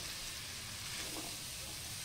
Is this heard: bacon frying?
yes